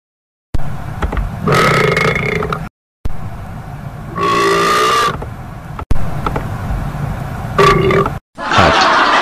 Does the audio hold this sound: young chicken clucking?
no